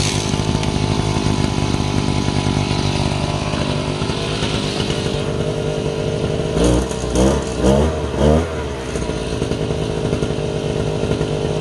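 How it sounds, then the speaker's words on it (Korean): Two-stroke brush cutter engine started with the choke closed, a loud continuous buzzing whine close by, with a few sputtering surges near the end. "조금 전에 시운전을 한번 했던 기계인데 초코 내린 채로 한번 시동 걸어 보겠습니다."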